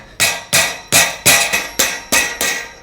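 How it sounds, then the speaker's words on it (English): End caps being tapped onto the tubing of a MicroSport Overland off-road low bed trailer: eight sharp, evenly spaced knocks, close and loud, with no talking. "Then we'll tap these end caps on."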